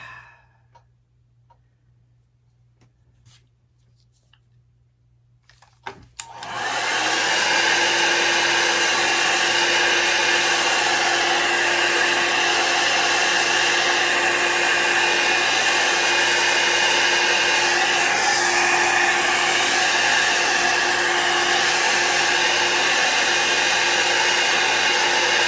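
A hair dryer switches on after several seconds of near silence and then blows loudly and steadily with a constant whirring roar.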